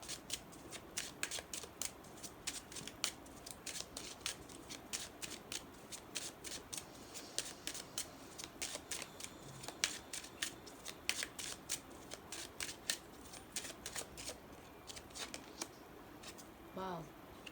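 Tarot cards are shuffled and drawn from a deck in a long run of soft, rapid riffling and flicking, quiet and close by.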